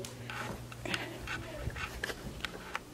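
A dog panting nearby in a home, with quick, soft breaths and a few faint whimper-like sounds over a low background hum.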